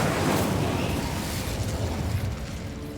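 The Incendio fire spell is cast in Hogwarts Legacy: a loud, rumbling fiery burst right at the start that slowly fades into a roaring crackle over three seconds.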